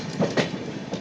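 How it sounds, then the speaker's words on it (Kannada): A train passes at an outer cabin near Ernakulam Junction while another train overtakes it, loud close rumbling with rhythmic wheel clacks against rail joints. "ಎರ್ನಾಕುಲಂ ಜಂಕ್ಷನ್ ಸೈಡಿಂದ ಬರೋ ಯಾವುದೋ ಟ್ರೈನು ನಾವಿಲ್ಲಿ ಔಟ್ರ್ ಕ್ಯಾಬಿನಲ್ಲಿ ಓವರ್ಟೇಕ್"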